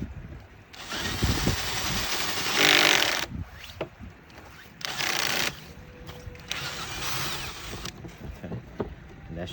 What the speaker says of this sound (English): So I just turn the drill.